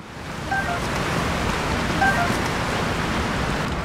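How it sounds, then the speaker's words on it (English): Roar of a waterfall in the video game Zelda: Tears of the Kingdom, a dense, loud, continuous rushing noise heard up close, with faint chime-like game tones twice. "Am I behind the waterfall?"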